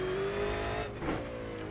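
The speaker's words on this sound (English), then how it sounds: "I like the fact that engine note's rising, let me get in there" Up close, a car engine revs with a rising, tonal note that climbs briefly, dips, and then holds a steady hum, loud and clear with no voices over it.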